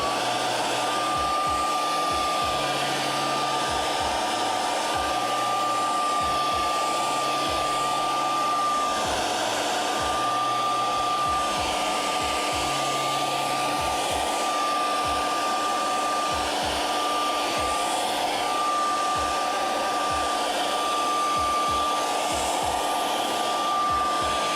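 A hair dryer blows steadily on puppet craft material, a loud continuous whirring hiss with a constant high whine that holds unchanged throughout, with no voices.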